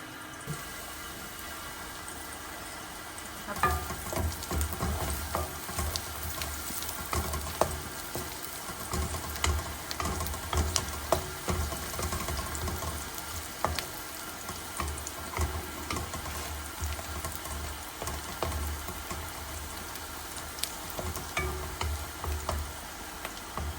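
Potatoes and carrot frying in oil in a pan, a steady soft sizzle that grows busier and louder partway through, with faint scattered clicks and stirring.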